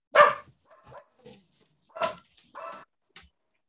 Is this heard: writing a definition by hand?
no